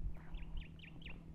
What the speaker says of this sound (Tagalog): Ayan, may mga ibon.